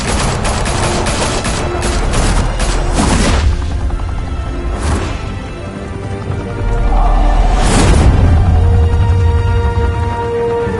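Sustained barrages of gunfire and booming blasts from a Batman video game, loud and dense throughout with heavy bursts around the start, middle and near the eighth second.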